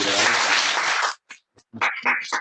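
Audience applause at a school classics academy lecture event, a dense burst of clapping for about a second that cuts off sharply, followed by brief faint noises and a return of louder crowd sound.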